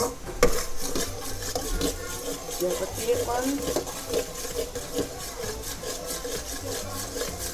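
A grandmother stirs coconut milk in a cooking pot to make the cream split its oil for a curry noodle sauce. A utensil scrapes and rubs steadily against the pot while someone talks over it.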